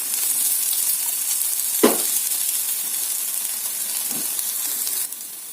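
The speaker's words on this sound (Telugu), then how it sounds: "ఇప్పుడైతే మళ్ళీ ఆయిల్ వేసుకోండి. బాగా కుక్ అవ్వాలండి లోపలికంటా." Egg bread snacks fry in hot oil in a pan with a steady, dense sizzle and hiss up close, broken by a couple of brief stirring scrapes, with no talking.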